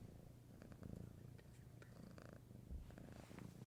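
A pet cat named Theodore Roosevelt purrs close to the microphone, a soft rhythmic rumbling vibration that runs steadily throughout, quiet and intimate, with a few faint clicks and rustles.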